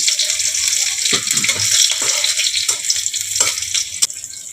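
Dried red chillies and crushed garlic hit hot oil in a pan for a steady, close sizzle with a few sharp crackles and clinks, and no talking.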